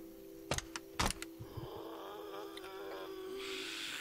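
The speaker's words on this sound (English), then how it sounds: "apparently one of the cats caught a mouse." A house cat that has just caught a mouse gives a few short, raspy vocal sounds indoors, mixed with sharp knocks and a steady low hum, all fairly faint.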